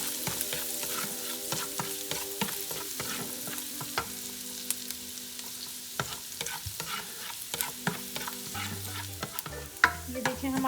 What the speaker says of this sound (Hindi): क्रश्ड जिंजर 1 टीस्पून, को हल्का सा हम सौते कर लेंगे।